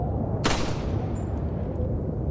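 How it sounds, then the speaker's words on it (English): A single gunshot in the video game Resident Evil 4, a sharp broadband crack standing out near the start over a steady low wind-like ambience, with no talking. "but then when there's the gunshot"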